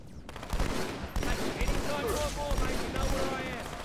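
Rapid bursts of video game gunfire from Halo 2 crackle and pop continuously over several seconds, dense and layered with distant shots.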